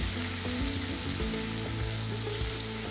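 Tomato sautéing in a hot pan for meatball curry, with a steady close sizzle and frying crackle as the pieces are stirred, continuous and fairly loud with no talk.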